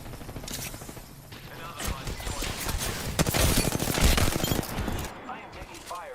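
Bursts of rapid gunfire ring out in the video game New World, loud and sustained, building into dense fusillades with mechanical clatter, and a voice speaking at times.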